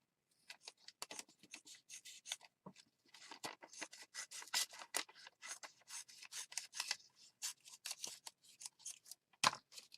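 Scissors cutting through a fabric doily for a junk journal, rapid quiet snips and rustling at close range, continuing steadily with no talking.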